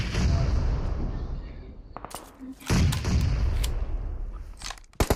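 Grenade blasts and gunfire crash through a PUBG Mobile match in repeated loud, rumbling bursts, with a sharp cluster of cracks near the end and voices talking over the action.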